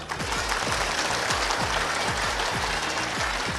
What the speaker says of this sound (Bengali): আবার সুযোগ দিচ্ছি খুব জোরে করার তালিটা হবে